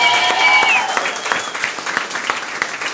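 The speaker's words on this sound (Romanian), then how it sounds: "Aplauze pentru Dan Frânculescu!" A studio audience at a Roast Battle comedy show breaks into loud applause for a new jury member, with bright clapping that starts full and then settles into a busy, uneven patter.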